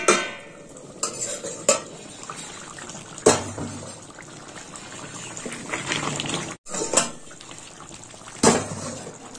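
Chicken curry with banana flower bubbles in a pot as a spoon stirs it, giving a soft simmering hiss broken by several sharp clanks and scrapes of metal against the pot.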